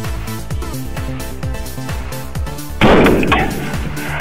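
A rifle fires at African big game: one sharp, loud blast that rings off briefly, set against steady rhythmic background music.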